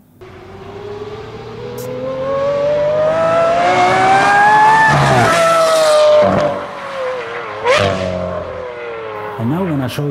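A Lamborghini V12 fitted with aftermarket headers rises in a long, loud rev that climbs in pitch, peaks, then drops, followed by sharper blips and a quick final burst.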